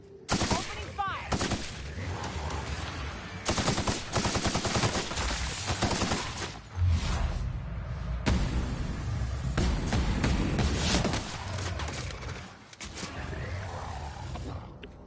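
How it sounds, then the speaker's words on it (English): Sustained gunfire in The Outer Worlds, heavy rapid bursts of shots that run almost without pause through the whole stretch, loud and close, with brief gaps between volleys and a faint voice at times. "Opening fire!"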